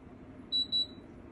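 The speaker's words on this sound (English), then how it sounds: "It beeped twice." An air conditioner gives two short, high electronic beeps in quick succession over a low steady hum.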